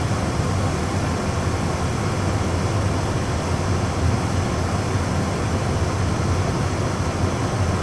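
Airbus A320 auxiliary power unit starting up, heard from inside the cockpit as a loud, steady, unbroken roar and hum that fills the whole clip.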